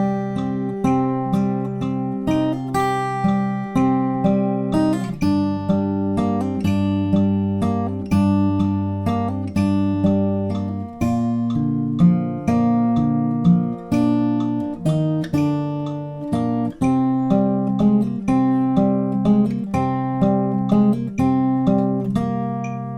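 Fingerstyle acoustic guitar plays the Game of Thrones theme verse variation at a slowed 75% tempo, with steady plucked bass notes under ringing melody notes, close and clear, with no talking.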